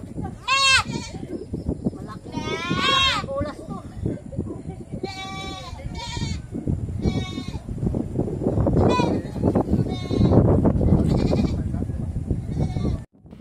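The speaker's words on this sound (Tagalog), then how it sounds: "Ito naman yung pangatlong kambing." A tethered goat bleats repeatedly, loud quavering calls in short bursts one after another, with livestock noise and people talking beneath.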